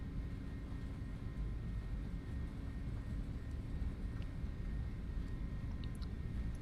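Simulated FedEx Airbus A300 jet on its takeoff roll in Microsoft Flight Simulator, a steady loud broadband engine roar and rumble that holds continuously throughout without any talk.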